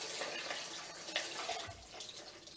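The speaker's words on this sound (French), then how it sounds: "Bien rincer son éponge ou son gant bien régulièrement" Running water splashes steadily from a tap as a sponge is rinsed beneath it, close and fairly quiet.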